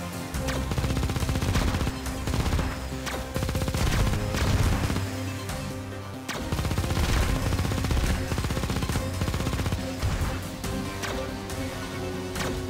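Rapid, continuous gunfire from the mobile shooter game Xenoraid rattles loudly in dense bursts with a brief pause midway, layered over a droning game soundtrack.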